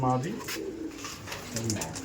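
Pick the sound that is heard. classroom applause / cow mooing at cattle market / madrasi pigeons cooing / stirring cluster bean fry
madrasi pigeons cooing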